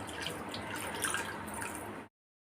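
Buttermilk and water are poured into a clay pot and stirred for millet porridge, giving a soft, steady liquid trickle and sloshing close by that stops abruptly.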